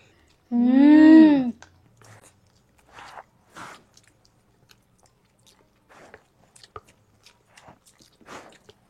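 People eat soft, sambar-soaked idli in an eating contest; a short voiced exclamation comes first, then quiet, sporadic squishy chewing and slurping sounds close by.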